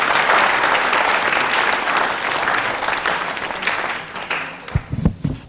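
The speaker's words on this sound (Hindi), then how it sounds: "बजाइए तालियां आप" A studio audience at a Doordarshan television quiz programme applauds an actor's performance with dense, sustained clapping that stays loud and steady, then thins out into a few scattered, heavier sounds at the very end.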